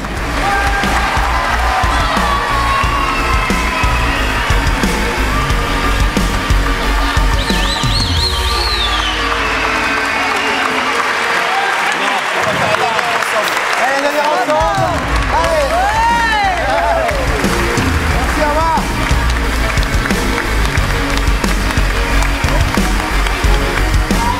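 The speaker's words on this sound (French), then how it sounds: "Merci d'applaudir les joueurs." A French audience at a professional improvisation match claps and cheers for the players in continuous dense applause, with an announcer's amplified voice and shouts mixed over the crowd throughout.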